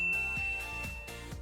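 A notification bell sound effect chimes in a few bright tones, each one struck and then decaying, clear and close with no voices.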